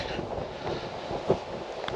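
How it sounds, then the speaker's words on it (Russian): Strong wind gusts buffet a microphone in a garden in Crimea in a steady roar, with a brief sharper gust about two-thirds of the way through. "ветер начинается уже. Я чувствую вот эти порывы сильные."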